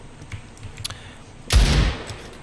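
Gunshot in the video game CS:GO, one loud, punchy, booming blast about halfway through, preceded by faint clicks and light tapping.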